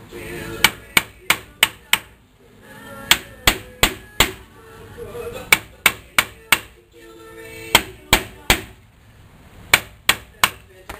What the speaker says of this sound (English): I should put a chisel in between and mangle it there instead of hitting it over here.